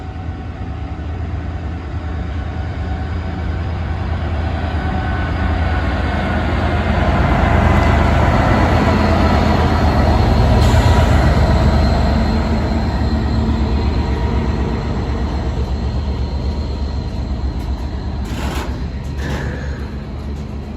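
A heavy Class 66 diesel freight train rumbles past at close range, a loud steady roar of engine and wagons lasting the whole time, with occasional metallic squeals.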